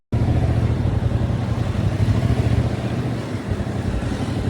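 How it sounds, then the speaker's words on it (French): Motorcycle riding through the streets of Angers, a loud close engine drone that starts abruptly and holds a steady rumbling note with slight dips, no talking. "Je repars en moto"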